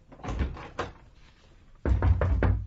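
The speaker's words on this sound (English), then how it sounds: "and shut the door" An interior door is shut in a flat, heard as a couple of close wooden knocks and thuds, followed by a heavier bang and rattle as it closes.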